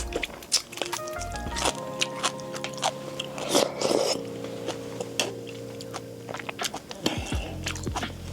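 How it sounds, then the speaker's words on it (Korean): Close, wet chewing and crunchy bites of dumplings wrapped in aged kimchi at a solo campsite, several rhythmic mouthfuls with squishy juicy smacks and a faint background hum. "묵은지에 만두 싸먹기"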